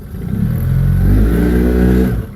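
The outboard engine on a Fishrite 24-foot center console boat cranks and catches, settling into a steady loud running rumble that holds close and continuous for a couple of seconds with no talk.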